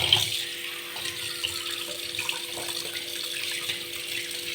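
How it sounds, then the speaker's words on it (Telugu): Fish being washed with salt in running tap water, a steady close splashing and trickling that continues throughout with no talking. "ఇది మొత్తం బాగా ఒక రెండు మూడు సార్లు కడుక్కుంటే కానీ ఇది పోదండి ఉప్పు వేసి బాగా కడుక్కోవాలి"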